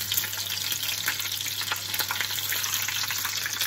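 Tempura prawns frying in very hot oil, a loud, constant crackling sizzle with fine popping, heard up close and uninterrupted, with no voices.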